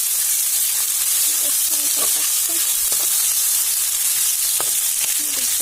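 Ginger frying in oil in a home kitchen pan, a loud continuous hiss and sizzle with faint stirring taps underneath.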